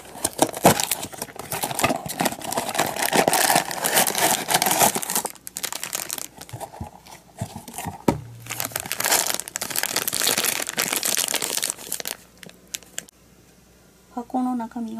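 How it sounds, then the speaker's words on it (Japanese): A RE-MENT Pose Skeleton grave-visit miniature toy set is unboxed. Its packaging crinkles and crumples loudly up close in repeated bursts, with tearing and rustling, then a short quieter stretch near the end. "それでは早速開封していきたいと思います"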